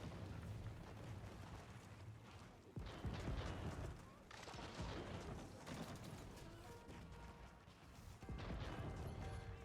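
Bombards in the Age of Empires IV video game pound a tower with heavy, booming cannon blasts and crashing impacts, layered over a dense, continuous battle din while a voice talks throughout.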